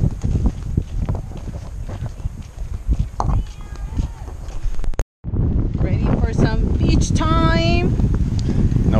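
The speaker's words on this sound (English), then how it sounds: "Nobody's gonna hear a word you say because of the windy." Strong wind buffeting the microphone on a beach on Sanibel Island, a steady loud rumble throughout with a brief dropout midway, with voices talking over it.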